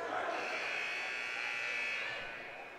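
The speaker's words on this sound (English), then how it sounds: "As the buzzer rings and the players are called to center ice" An ice hockey arena buzzer sounds during a college game, a sustained harsh buzz lasting about two seconds over a busy arena background before it fades away.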